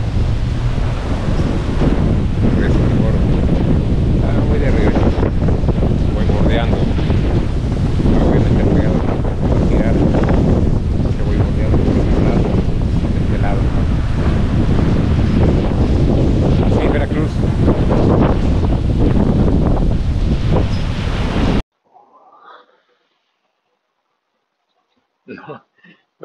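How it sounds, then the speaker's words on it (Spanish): Strong wind gusts buffet the microphone by the sea during a norther with gusts around 50 km/h, a loud continuous roar with surf undertones for over twenty seconds before cutting out to near silence. "Las ráfagas todavía son fuertes, bastante fuertes, y más pegado aquí al mar."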